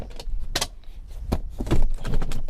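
Rear seats of a 2005-2010 Honda Odyssey minivan being folded down, close and fairly loud, giving several sharp clunks and latch clicks with rustling in between and no talk.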